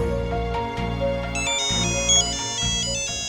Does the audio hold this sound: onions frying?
no